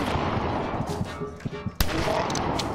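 A gunshot in the video game Greyhill Incident cracks out once as a single sharp, loud report partway through, over a busy background of game ambience and low rumble.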